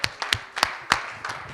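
A church congregation clapping in acclaim after the pastor's call, a short run of sharp, uneven hand claps with quick separate strikes in a reverberant room.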